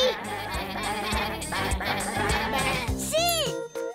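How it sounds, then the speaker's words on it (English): A sheep bleats over lively children's show music, the wavering call coming near the end before the music cuts off briefly. "Sheep! You say sheep."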